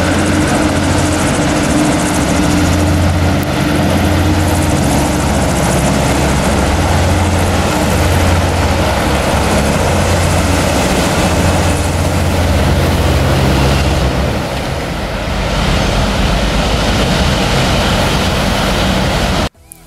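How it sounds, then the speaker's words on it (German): A passenger hovercraft at Southsea roars steadily, near and loud, with a deep droning fan and engine sound that swells and holds as it arrives and leaves, easing only briefly before the end. "wie so ein Luftkissenfahrzeug hier in Southsea angekommen und abgefahren ist"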